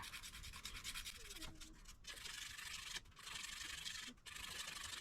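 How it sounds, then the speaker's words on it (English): A file rasps back and forth across a hard seed coat to scarify it, a soft, continuous scraping with brief pauses between passes, faint and close. "I'm gonna pinch it really hard, and then I'm just gonna start filing around that seed."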